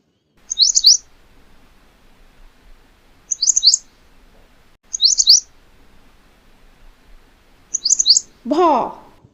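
Bulbul chirping as a sound effect: four short bursts of bright, twittering chirps spaced a few seconds apart, clear and alone, ending with a brief higher swooping call.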